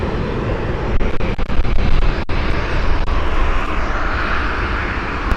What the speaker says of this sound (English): we got a Hawker inbound from Dayton on final